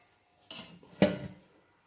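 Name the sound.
lid placed on cooking pot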